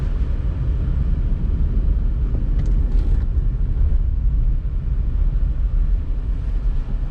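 A Jayem Neo electric Nano car rolls in reverse, producing a steady low cabin and road rumble with a faint electric whine, close and continuous, with no talking.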